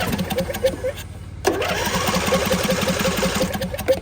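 A John Deere riding mower engine cranks over and sputters, a rhythmic chugging churn that pauses briefly and then resumes, loud and close.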